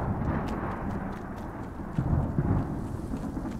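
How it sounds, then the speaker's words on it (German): Thunderstorm in the video game Smalland, a steady low rumble of rain and thunder with a swelling roll partway through, continuous and fairly loud. "Und natürlich ist Gewitter."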